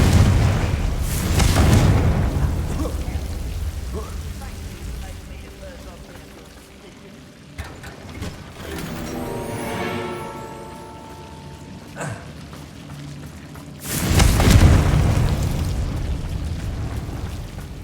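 Fire-spell explosions in the Hogwarts Legacy video game: two heavy, rumbling booms, one near the start and one near the end, with quieter crackling and rumble in between.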